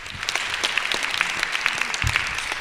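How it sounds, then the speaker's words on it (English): Scattered, moderate applause from the audience at a gubernatorial candidate forum, individual claps audible within a thin, fairly brief burst for the moderator. "should we give her a round of applause?"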